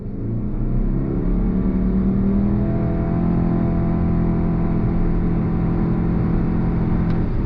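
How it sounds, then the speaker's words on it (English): A 2023 Subaru Ascent SUV pulls away from a dead stop with a loud, steady engine drone, its pitch rising smoothly as the vehicle gathers speed. "I want to show you the on-throttle acceleration."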